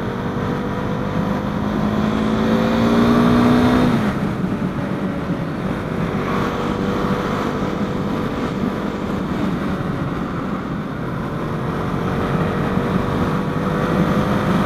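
A KTM Duke 390 motorcycle on the road, its engine droning steadily with wind rush, a rising engine tone in the first few seconds and then a continuous even ride.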